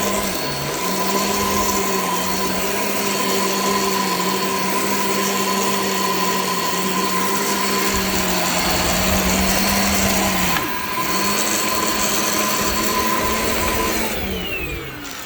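Shark Infinity Pet Care vacuum running on a living room carpet, a loud steady motor whine with a high tonal hum, its pitch dipping slightly as the head is pushed back and forth, ending with a brief shift.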